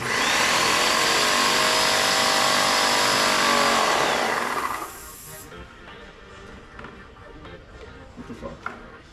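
A Graco Magnum airless paint sprayer runs with a loud, steady hiss and motor whine, then cuts off about halfway, leaving quiet room noise with a few faint clicks.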